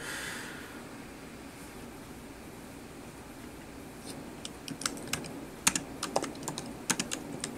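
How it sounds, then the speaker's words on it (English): Faint typing on a computer keyboard: irregular, quiet key clicks begin after a few seconds of low room hum and build into a loose rhythm. "Type in your message and click CAPTCHA."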